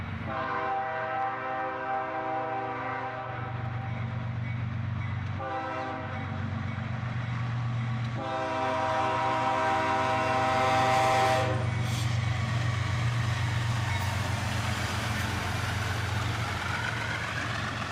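Two trains meet as a southbound passes on the other track, a loud continuous rumble of rolling railcars with sustained harmonic horn blasts sounding repeatedly over it, close by.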